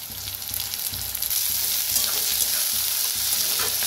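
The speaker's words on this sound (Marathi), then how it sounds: "छान असं भाजून घेऊया दोन्ही बी, कांदा कांद्याची पात" Sliced onion, curry leaves and onion greens fry in a hot pan for a spicy masoor dal and onion dish, giving a steady, close sizzle that stays even throughout with no talking.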